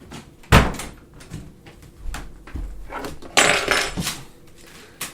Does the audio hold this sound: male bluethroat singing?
no